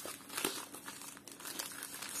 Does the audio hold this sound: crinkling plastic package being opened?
yes